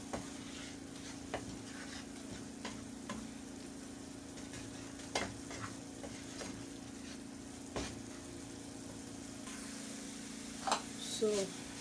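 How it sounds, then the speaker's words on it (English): Curry powder being stirred into sizzling meat pie filling in a pan: a steady frying hiss with soft scraping strokes and occasional clinks, faint and continuous. "Stir everything together."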